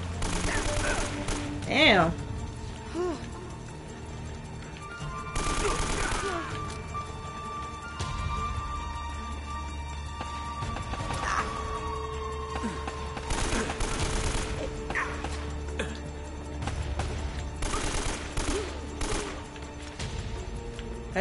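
Gunfire in Uncharted: Drake's Fortune: scattered sharp shots and short bursts spread across the stretch, with one louder blast early on, mixed with game music tones and someone talking now and then.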